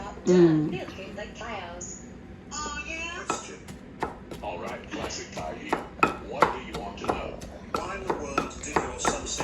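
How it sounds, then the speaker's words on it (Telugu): Cucumber pieces pounded in a stone mortar for chutney make a run of sharp, uneven thuds and knocks, close and fairly quiet, after a few spoken words at the start. "దోసకాయ ముక్కలు వేసి మమ్మీ దంచుతుంది"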